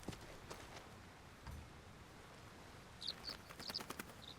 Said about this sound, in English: We just got some birds.